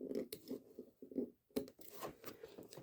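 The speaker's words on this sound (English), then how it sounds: "I'm just going to cut those little bits off" Scissors snip thread ends off a fabric tote bag, a series of quiet, close, crisp cuts in an irregular rhythm.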